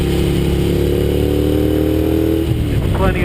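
A Ducati Monster 696 motorcycle engine runs loud and steady with a strong low rumble, its pitch shifting slightly near the end as the revs change.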